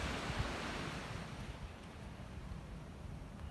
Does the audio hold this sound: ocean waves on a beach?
yes